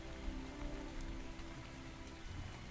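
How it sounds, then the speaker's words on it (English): Steady rain patters across a game world as a character roams a town in an early-access dark-and-light fantasy game, a constant dense hiss of drops with no talk over it. "And it's raining."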